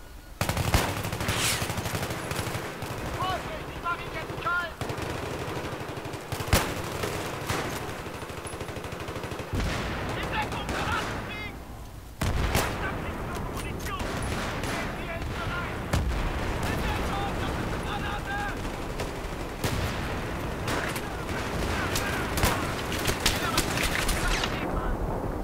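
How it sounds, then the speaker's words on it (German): Sustained gunfire and explosions from a Battlefield 3 online match on the Metro map, with dense bursts of rifle and machine gun fire and heavy booms running almost continuously, loud and close, while a player talks over the battle. "Ich stehe hier voll unter Beschuss!"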